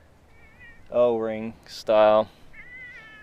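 A quiet cat meows twice, two short drawn-out close meows in a workshop, with someone speaking in between.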